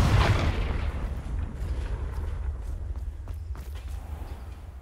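A fire-blasting spell goes off in the Hogwarts Legacy game, a loud boom at the start that trails into a rumbling low roar and scattered crackles as the blast dies away.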